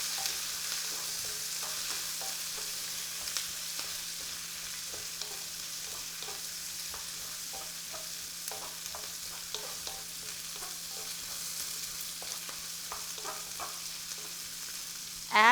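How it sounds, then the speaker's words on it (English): Onions fry in a pan for a chicken curry, a low steady sizzle under scattered soft clicks and scrapes of a spoon stirring, with a sharper clatter right at the end. "all you're going to do is add the onions in here. And stir again for a few seconds."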